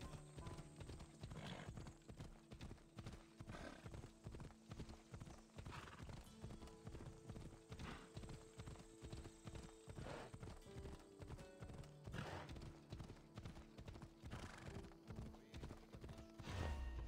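Galloping horse hooves from the video game Assassin's Creed Odyssey beat in a fast, even rhythm throughout, close and prominent over a backdrop of game music.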